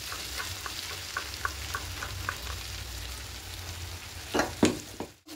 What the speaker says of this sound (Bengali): চারমগজ পেস্টটা করেছিলাম ওটা একটু দিয়ে দেবে